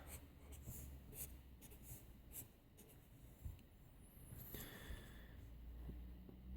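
A pen scratching across a surface while a diagram is drawn, a series of short close strokes with brief pauses between them, unaccompanied by talk.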